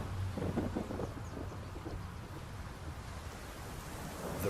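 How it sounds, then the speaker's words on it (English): Steady heavy rain hisses without a break while deep thunder rumbles low underneath, loudest early on and rolling on at a distance, with no voices. "The rain falls back to the earth."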